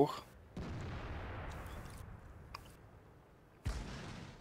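Two heavy booming cannon shots in the tank game Godzilla, one at the start and another near the end, each decaying into a rumbling tail, with faint game effects between.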